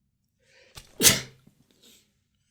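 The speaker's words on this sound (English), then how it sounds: "Sorry about that, I had to sneeze." A single close, sharp human sneeze bursts out after a brief inhale against near silence, then quickly fades.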